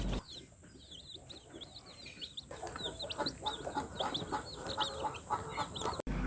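A hen and her chicks cluck and peep nonstop nearby. Steady high cheeping from the chicks overlaps lower clucks, with the whole flock growing louder partway through over a constant hiss.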